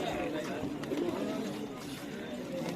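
Pigeons coo at a busy pigeon market with Lahori and Siraji breeds, soft repeated cooing half buried under steady crowd chatter and talking voices.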